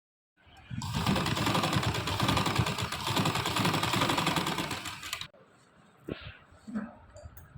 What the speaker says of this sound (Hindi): अब इस पर मैं सिलाई लगाऊंगी।